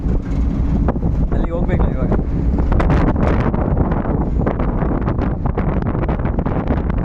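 Strong wind buffets the microphone throughout with a steady, heavy roar on a hilltop near Sakkare Bailu, Shivamogga, and a person speaks briefly beneath it.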